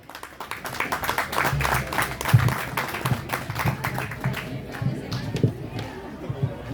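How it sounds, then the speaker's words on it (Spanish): A crowd applauds steadily at a book fair presentation, with scattered claps and murmuring voices mixed into the sustained clapping. "le pido por favor un gran aplauso para don Juan Carlos Gómez Leyton."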